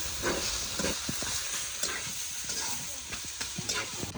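Soft sizzling of potatoes frying in a pan, with occasional scrapes and clinks of stirring, no talk.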